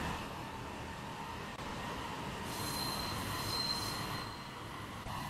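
Train wheels squeal in the Roblox game Terminal Railways. A thin, high metallic whine rises out of a steady rolling rumble, holds for a couple of seconds, then fades back into the constant rail noise.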